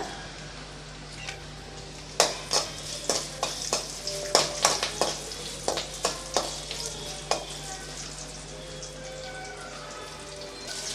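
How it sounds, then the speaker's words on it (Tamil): Garlic and curry leaves sauté in a pan for a mint-coriander thokku, sizzling steadily under a quick series of sharp spatula clacks and stirring scrapes against the metal. "பூண்டெல்லாம் நல்லா வதங்கிடுச்சு"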